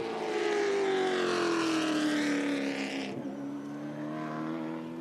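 The No. 66 Chevrolet stock car of RPM Racing runs a qualifying lap at Cordele Speedway, its engine a loud, sustained drone that sinks in pitch as it passes, then settles into a steadier roar.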